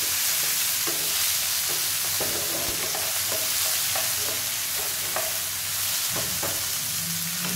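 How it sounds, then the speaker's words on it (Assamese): Onion, capsicum and tomato are stir-fried in a hot pan for vegan chili chicken, with a constant close sizzle. A spatula scrapes and clatters against the pan in irregular strokes throughout. "দি দিওঁ পিঁয়াজ, কেপচিকাম, বিলাহী, দি পেলাই লৰাই দিওঁ।"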